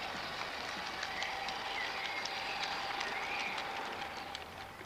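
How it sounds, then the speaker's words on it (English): A model railway diesel-electric Type 4 locomotive runs along the track with a steady, continuous motor whir and faint rhythmic clicks of the rails, moderately close and unbroken by talk. "And that's the diesel electric."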